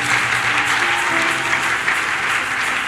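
A church congregation applauding loudly at a sermon, a dense steady wash of clapping with a faint murmur of the crowd underneath.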